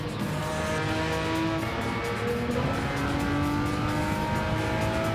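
A Ferrari Testarossa in Gran Turismo 7 races with its engine revving steadily at high pitch, the tone sliding up through the gears in a continuous, fairly loud drone with no talk.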